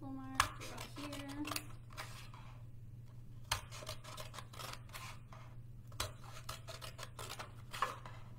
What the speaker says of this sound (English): So, further ado, I'm gonna go ahead and cut.